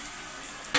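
Potatoes stir and fry in a pan with tomatoes for a masala dish, a soft continuous sizzle close by, ending in a brief louder scrape or hiss.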